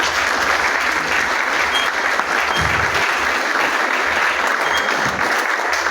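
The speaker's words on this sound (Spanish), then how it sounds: "Esos aplausos no son un efecto especial, es el público que vino hoy a ver la entrega de la obra local." Audience applause from the crowd at a local book presentation event, a dense, steady wash of clapping that continues for the whole stretch with no voices over it.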